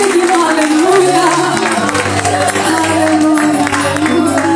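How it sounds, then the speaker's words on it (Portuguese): A church congregation claps and cheers during a worship service, a loud sustained roar of applause mixed with voices and music. "Aplauda o Senhor."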